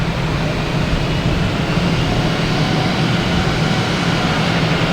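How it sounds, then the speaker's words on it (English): A big Delta airliner passes in review at Boston Logan Airport, producing a loud, continuous jet roar with a low droning hum that stays steady throughout, with no talking. "We got a big Delta here passing in review"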